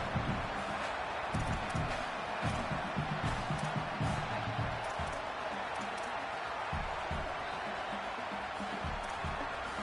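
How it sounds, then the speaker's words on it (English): A dense, roaring stadium crowd at a Virginia versus Miami football game fills the space with continuous loud cheering and noise, steady throughout with no pauses. "Listen to this crowd just shaking"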